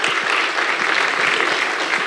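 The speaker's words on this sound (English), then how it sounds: "Can we have a round of applause for Mr. Vinayak Godse?" Audience applause at a financial security conference, a dense, steady clapping from a large crowd that carries on through the moment without talk.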